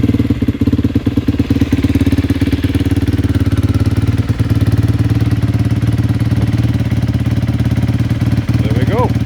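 A 2020 Honda CRF250R engine fitted in an LTR hybrid quad runs loud and close, a steady, throbbing single-cylinder idle with slight rises, and a voice briefly comes in near the end.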